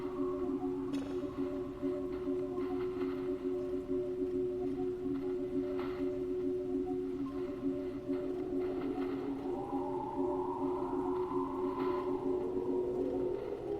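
A deep space radio signal played back in the Voices of the Void game, a steady low droning hum with layered sustained tones and a faint rising whine near the end, quiet and continuous with no talking.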